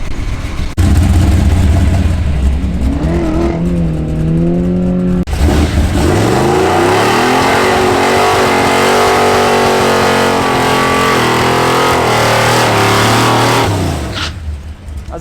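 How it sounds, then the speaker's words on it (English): A Big Block Chevy C10 truck does a burnout at a drag strip, its engine revving hard and climbing in pitch in loud, sustained bursts before fading at the end. "That was a better burnout than me."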